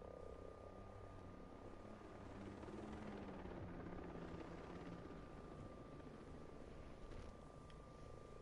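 A reinforcement helicopter in the video game Ghost Recon Breakpoint: a faint, steady rotor drone that holds at a distance under a low rumble, with no break for the whole stretch.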